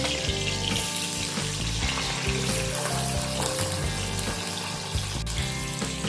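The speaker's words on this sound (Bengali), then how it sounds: "গ্যাসের ফ্লেমটা মিডিয়ামে রেখে এগুলোকে হালকা করে ভেজে নিতে হবে।" Onions and tomatoes frying in a pan over a medium gas flame, a constant busy sizzle and crackle with stirring scrapes, close and steady throughout.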